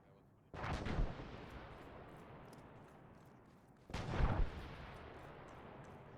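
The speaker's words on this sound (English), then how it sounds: "Once this artillery dies down, you'll be heading forward to the trenches with Klein" Heavy artillery fire in a World War trench-combat video game, two loud booming blasts about three seconds apart, each followed by a long rumbling decay over a steady roar of battle.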